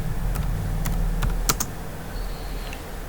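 Keystrokes on a computer keyboard while working in Windows 10, a few separate sharp clicks over steady background hum, fairly close and moderately loud, with no talking.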